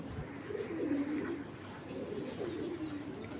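Racing pigeons at a pigeon farm coo in low, throaty, rolling calls, one after another, close and clear with no talking.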